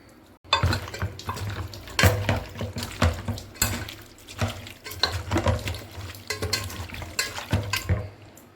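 Country chicken being washed by hand in water with turmeric and lemon, heard as continuous close sloshing and splashing with repeated rubbing and clattering strokes, steady and fairly loud, with no talk.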